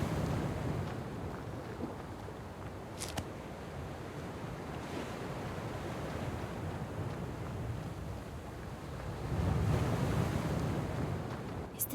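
Sea waves wash against the coast with steady wind noise buffeting the microphone, the surf swelling louder toward the end, near a submerged church with its bell tower rising from the water.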